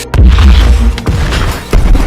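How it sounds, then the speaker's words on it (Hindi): A World War II tank shell blast is heard as a loud, close explosion sound effect, with heavy low booms and three thumping impacts that rumble on and fill the short stretch. "एक जबरदस्त धमाका"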